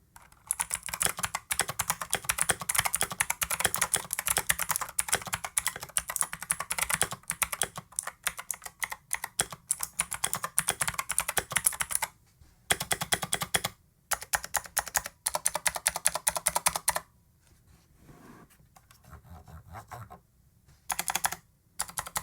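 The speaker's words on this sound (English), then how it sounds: "You will hear audible clicks when you're typing with this keyboard." Rapid clicky typing on a Razer BlackWidow V4 X mechanical keyboard, close and crisp, in bursts with a few short pauses.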